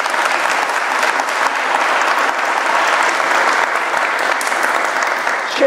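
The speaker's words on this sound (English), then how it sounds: "Let's give him a round of applause." An audience at an economic forum gives Raphael Bostic, president of the Federal Reserve Bank of Atlanta, a round of applause: a steady, full wash of many hands clapping throughout, close and uninterrupted.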